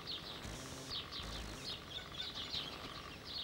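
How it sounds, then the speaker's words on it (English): Several birds chirp and twitter in quick, overlapping high calls, moderately distant, against a steady outdoor background. "All the birds singing this morning."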